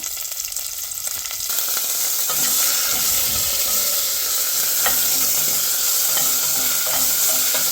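Onions with ginger garlic paste fry loudly in a pan for tomato chutney, a dense steady sizzle and steam hiss with stirring scrapes running throughout, close and unbroken.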